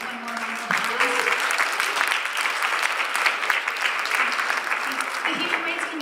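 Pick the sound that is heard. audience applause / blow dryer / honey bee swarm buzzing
audience applause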